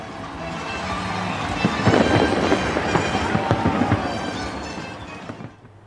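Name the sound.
fireworks at the Eiffel Tower on France's national day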